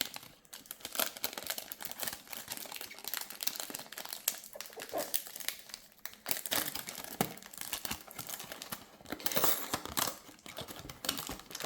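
Plastic crinkles and rustles up close in irregular bursts while a Comme des Garçons fragrance package is handled and its plastic bag pulled open.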